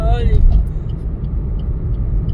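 Steady road rumble and engine drone of a car cruising at 60 km/h on an Indian city road under a metro construction, with a brief tone at the start and low vehicle noise throughout.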